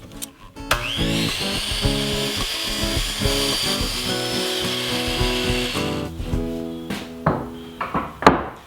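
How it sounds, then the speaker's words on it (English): Wooden lumber-rack pieces are sawn at 45-degree angles in a workshop, a loud continuous cut lasting several seconds that ends with rougher handling and knocking noises. No one speaks. "I'm going to measure in 1/2 inch and cut a 45 on the tops and bottoms of all the racks"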